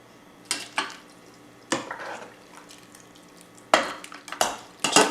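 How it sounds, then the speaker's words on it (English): Partially cooked tomatoes scooped from a pot into a food mill for homemade ketchup, heard as separate wet, sloshing scrapes and clanks of a utensil against metal, arriving in irregular bursts with quiet gaps, close by and without talk. "So now we'll transfer our partially cooked tomatoes into the food mill."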